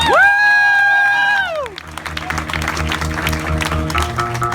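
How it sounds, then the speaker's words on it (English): An audience at a paranormal stage show applauds as volunteer Bill comes on stage, with scattered clapping and crowd noise rising after a loud, sustained tonal music sting that opens the moment. "big round of applause for Bill"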